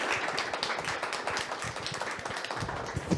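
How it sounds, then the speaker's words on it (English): A small audience at a museum gallery talk claps in a brisk, steady patter, close and fairly even, with no voices over it. "let's give Tim, Jen, and Emma a round of applause and a thank you for being with us today"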